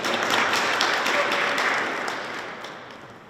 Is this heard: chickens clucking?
no